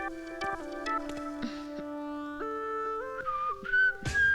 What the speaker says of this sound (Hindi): सीटी क्यों बजा रहे हो